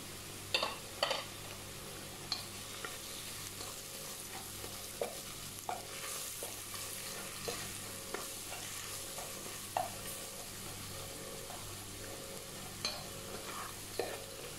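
Spices sautéing in a pan for creamy chicken spinach pasta, a steady sizzle punctuated by regular clinks and scrapes of a spatula stirring against the pan, close and clear with no talking.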